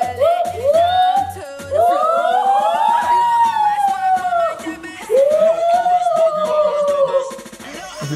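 A person vocally imitates a police siren, sliding wailing tones rising and falling loudly across the span, preceded by a few short rhythmic bursts and ending in a brief scrappy noise.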